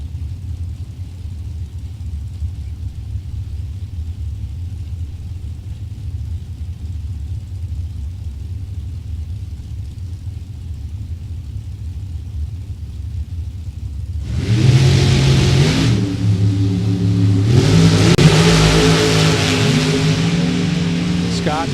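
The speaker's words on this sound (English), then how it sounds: "Big block Chevy powered rear engine dragsters." Big block Chevy powered rear engine dragster at a Topeka drag race, a steady low rumble that suddenly swells into a loud, harsh revving roar near the end, with an announcer talking throughout.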